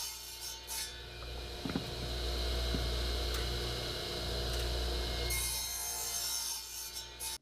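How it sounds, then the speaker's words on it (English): Wooden spacers, six inches long, being sawn for a welded lumber rack in a shop, a steady grinding, rasping cut that runs nearly the whole time at close range with no talking. "I cut a bunch of 6-inch spacers to help space out the shelves evenly."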